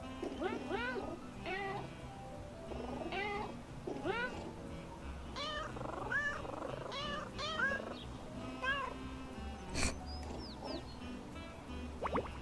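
A boss cat in the Little Kitty Big City video game meows repeatedly, a run of close, clear cries spread across the clip over a soft game background, with a few brief chirpy sounds near the end.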